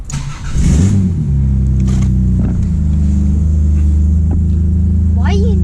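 A Holden VE SS Commodore ute V8 engine rises in a sharp rev, then settles into a loud, steady low rumble close by, with brief voices over it.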